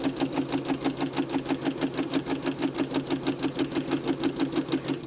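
A sewing machine stitches down one side of a fabric holiday garland, its needle chattering in a fast, even rhythm that runs steadily and loudly throughout, with no voices.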